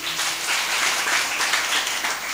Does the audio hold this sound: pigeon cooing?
no